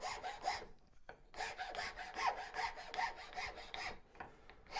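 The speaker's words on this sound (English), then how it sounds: "Now I'm using a reasonably coarse rasp for this job" A coarse rasp rounds the corners of a wooden spoon in a steady rhythm of close, gritty strokes, about a dozen in quick succession after a short pause, with no talk.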